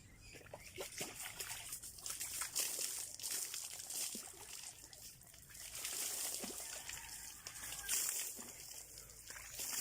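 Hot water pours steadily from a tap in a rural home, a continuous close splashing and trickling stream that runs alone for nearly ten seconds with no voices.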